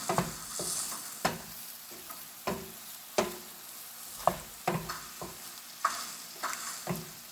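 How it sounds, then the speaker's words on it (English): Japanese eggplant sautés in oil with chili powder and spices, sizzling steadily while a utensil stirs and scrapes the pan in regular knocks, close and fairly quiet. "Just keep sauteing till it is finally done."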